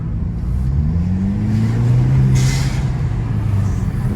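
Hyundai Elantra N-line fitted with a cold air intake, boosting in a lower gear: a loud, steady engine drone whose pitch climbs smoothly as it revs, holding strong throughout.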